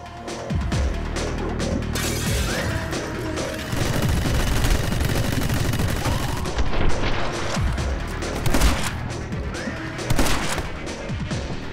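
Rapid gunfire and impacts from the side-scrolling twin-stick shooter game My Friend Pedro, dense continuous bursts with booms and crashes layered over game music, loud and unbroken throughout.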